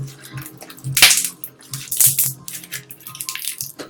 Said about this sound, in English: that's the sound of putty, my friends